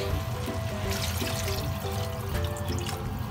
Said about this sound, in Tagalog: Saka po lagyan natin ng tubig.